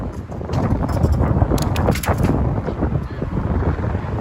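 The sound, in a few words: wind blowing on a city street at night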